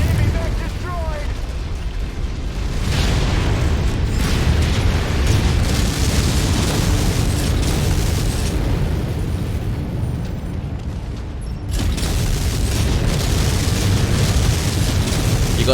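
A huge, sustained roar of a destroyed mech blowing apart in MechWarrior 5: Mercenaries, a dense rumbling blast that fills the scene for over ten seconds, briefly dipping before surging back up.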